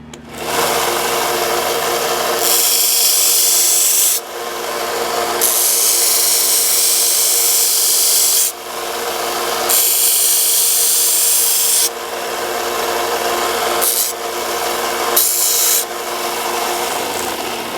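Belt sander rough shaping a steel Kar 88 rifle buttplate, a loud continuous abrasive grinding roar in several long passes separated by brief pauses, with no talking.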